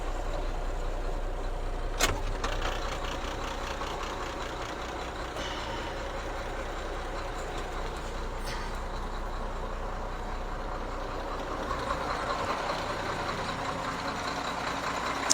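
A rollback tow truck's engine runs in a steady, low rumble throughout, with a couple of sharp clicks or knocks breaking through briefly.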